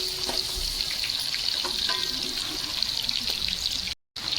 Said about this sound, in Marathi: लसूण टाकून घ्यायचे तेलामध्ये.